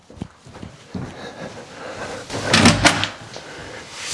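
A small laundry room door in a model home clicks and thumps, with light handling knocks building to a louder latch-and-swing burst near the end, close and indoors without talk.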